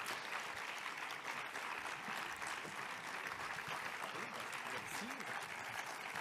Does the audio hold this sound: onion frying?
no